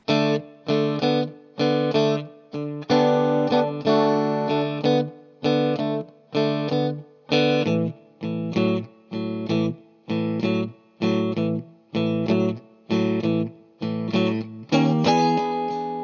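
Overdriven electric guitar plays a choppy blues rhythm pattern across four bars, strummed chord bursts with short gaps, steady shuffle feel.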